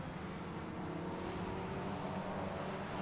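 A Jaguar XJ40 touring car racing at Brands Hatch in a classic touring car event gives off a steady engine drone, heard at a distance over a constant wash of track noise.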